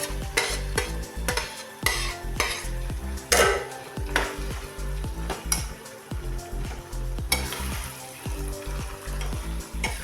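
Mashed eggplant for a Maharashtrian bharit goes into a hot pan and is stirred, with steady sizzling frying and repeated scraping clinks of a spoon against the pan throughout.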